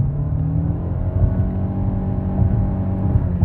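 A 2015 Nissan Altima S engine revving without shifting gears, a steady droning whir held at constant pitch with small swells, heard close and alone.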